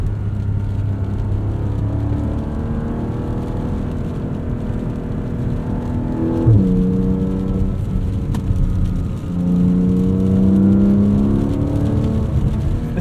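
A 2024 Porsche 718 Cayman GTS with its 4.0-liter engine, in sport mode with manual shifting, revs up in steady climbing pulls with a short shift break between them, heard loud and close from inside the car.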